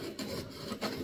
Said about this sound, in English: It just barely rubs on these ribs right there.